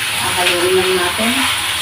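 Steady sizzling and light stirring of Thai-style chicken cooking in a hot pan, close and continuous, with a faint voice in the background.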